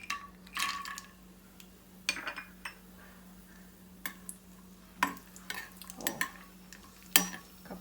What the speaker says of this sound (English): first fry the onion and the cashew nuts and the raisins